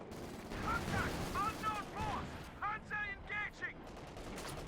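Gunfire from British 6-pounder anti-tank guns hitting sandbags in a Company of Heroes 2 match, heard as bursts of sharp, ringing shots with metallic echoes, several in quick succession, mixed with other battle noise.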